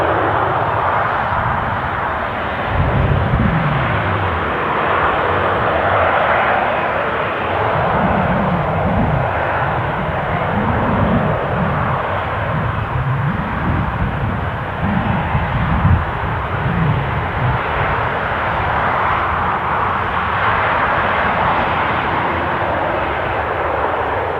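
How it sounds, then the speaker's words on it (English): A Malta-bound airliner climbs out after takeoff from Newcastle airport, its engines producing a loud, continuous roar that holds steady for the whole stretch with a slight rumbling pulse. "Stay with this Malta flight arcing up."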